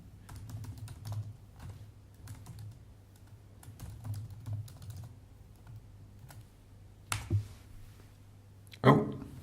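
Typing on a computer keyboard while configuring a software build setup: quiet, irregular clusters of key clicks run throughout, with two louder, sharper knocks near the end.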